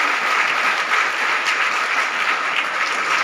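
Loud, dense applause from a crowd at a youth gathering of unemployed teacher-eligibility candidates welcoming guests, a continuous even roar of many hands clapping with no pauses.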